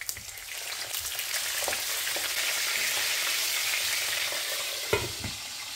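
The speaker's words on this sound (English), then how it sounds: "When I fry fish, I do shallow frying because I don't keep the oil." Steady, crackling sizzle of fish frying in a shallow pan of hot oil, continuous throughout with a brief louder pop near the end.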